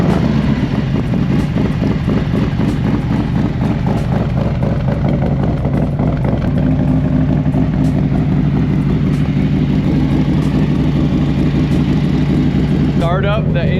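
A 2024 Harley-Davidson Road Glide with a beefier exhaust fires up and settles into a throbbing idle, heard up close with people talking over the engine.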